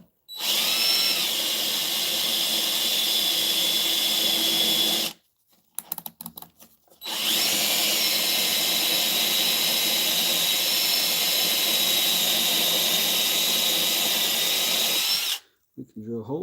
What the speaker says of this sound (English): we can drill holes in it